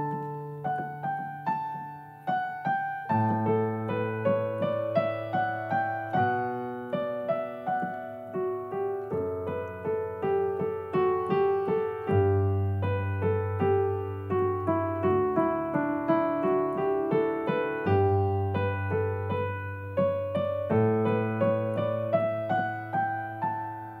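Canon in D on piano with both hands together, a steady flowing melody over sustained bass notes, clear and close with no talking.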